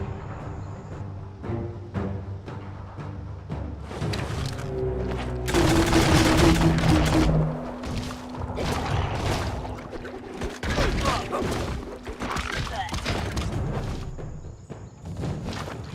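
A bomb lobber fires and explosions burst in the video game Biomutant, with repeated sharp blasts, thuds and rattling gunfire-like bursts over a busy game soundscape, loudest in the middle stretch.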